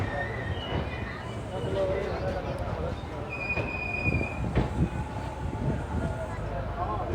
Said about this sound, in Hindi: और भाई बिल्कुल धीमी रफ्तार से निकल रही है अपनी छपरा जंक्शन से